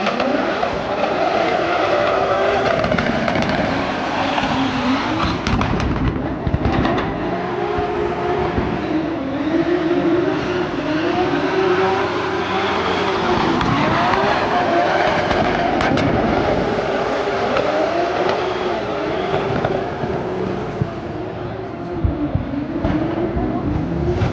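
Drift cars racing around a tight parking-lot track at a top-level practice session in Chicago, a continuous loud roar of engines and tire noise close by, steady throughout with crowd noise underneath.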